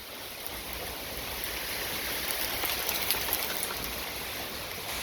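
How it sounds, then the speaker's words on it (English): Steady rain falls on a wooden deck beside a hickory tree, a dense, even hiss with scattered drop patter, continuous and fairly close, with no voices. "So, it's raining."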